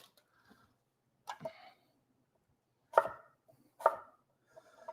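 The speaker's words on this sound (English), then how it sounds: "I'm chopping right now." Food being chopped during prep for deli salads in a kitchen, heard as three or four sharp, separate knife strikes spaced over a few seconds with quiet gaps between them.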